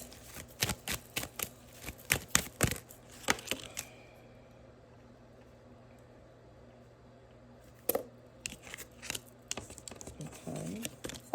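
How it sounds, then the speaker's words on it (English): Tarot cards are shuffled by hand in quick bursts of riffling and flicking, close and fairly quiet, with a pause in the middle before the shuffling resumes. "It's like a lot of the same cards coming out, y'all. And y'all see me shuffling them."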